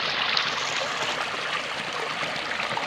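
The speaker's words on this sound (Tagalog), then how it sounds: "Grabe king kusuga sa baha, tapos ang mga humay amo diri guys" Strong floodwater rushes through flooded rice fields in Masbate, a loud continuous roar of churning water close by with no pauses.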